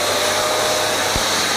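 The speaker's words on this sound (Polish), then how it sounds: "Odpalamy odkurzaczek." A vacuum cleaner hooked up to a Wolfcraft drywall sander runs with a loud, steady broadband roar and hum, with a brief low thump just past the midpoint, and no voices.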